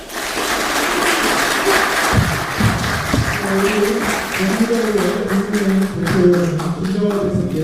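Audience applause fills a hall at a People Power Party policy meeting of the Gyeonggi Provincial Council, steady and dense, with a voice speaking over the clapping through the later part.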